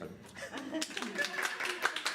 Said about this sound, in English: You can keep clapping. Don't stop.